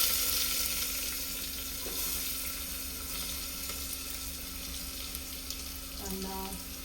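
Onion frying in ghee gives a steady close sizzle throughout, with faint clinks of a utensil near the end.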